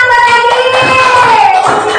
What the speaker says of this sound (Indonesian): Ya, tepuk tangan buat Adit.